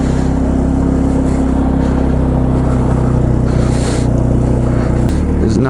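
A 2005 Polaris Predator ATV engine, freshly fitted with a new head gasket and valves, runs loud and close at a steady rumbling drone, with a brief change in pitch near the end in freezing outdoor cold.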